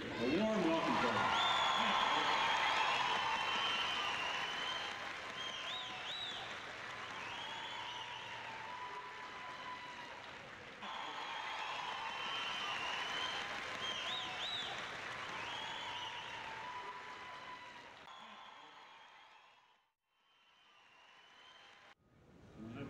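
Sustained audience applause with cheering greets contestants at the Canadian National Exhibition's Ambassador of the Fair competition. It stays loud and steady for about eighteen seconds, then fades with a brief dip and a short final swell.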